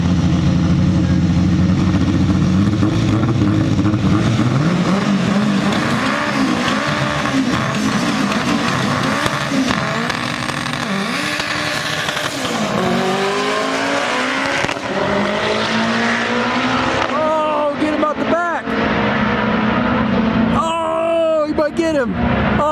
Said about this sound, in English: Derek's got his E-Series front-wheel drive coupe versus Roman's all-wheel drive EG coupe